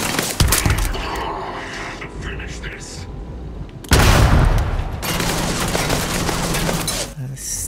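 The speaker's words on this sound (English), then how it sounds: "Stop with the grenades already" Grenade explosions and gunfire in the Starfield video game heard as loud booming blasts and rattling bursts of shots, with a heavy explosion near the middle and a voice reacting at times.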